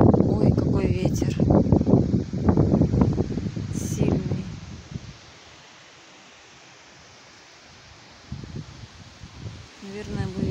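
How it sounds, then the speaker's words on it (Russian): Strong wind gusting through trees, with birches bending, roars broadly and loudly outdoors, easing to a quieter lull midway before picking up again, while someone talks over the first part. "Ой, какой ветер."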